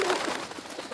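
Pigeons coo in the Lost in Play video game, soft rounded low calls repeating in a gentle rhythm, faint and brief with no talk over them.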